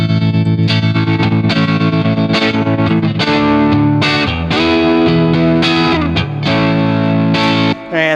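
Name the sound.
Tube Screamer emulation overdrive pedal in AmpLion 2 plugin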